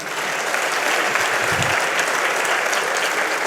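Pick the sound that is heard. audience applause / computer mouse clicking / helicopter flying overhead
audience applause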